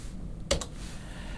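One or two crisp keystrokes sound on a computer keyboard while a resistor value is typed into LTSpice circuit simulation software, close and quiet against faint room hiss.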